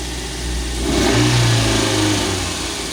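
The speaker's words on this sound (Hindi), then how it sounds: "क्योंकि अभी गाड़ी ठंडी है ना, तो उसकी वजह से इसका आरपीएम ऊपर चला गया है" A cold car engine with a random multiple-cylinder misfire starts and idles at raised RPM, a loud close steady drone that swells around the one-second mark and holds a high, even idle without voices.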